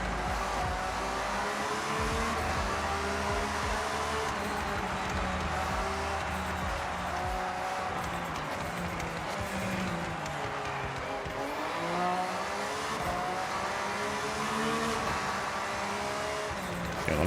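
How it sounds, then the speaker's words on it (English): Hypercar lapping a circuit in Forza Horizon 6, steady engine drone with shifting revs and intermittent tire squeal through corners, continuous and fairly quiet throughout. "This is the worst handling you can possibly get. It's a hypercar. It goes fast."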